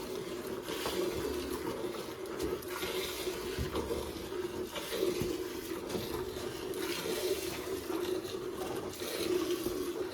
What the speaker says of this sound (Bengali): এই পাম্প যেই চালাবো সেই সারা বাড়ি ভিজিয়ে যাবে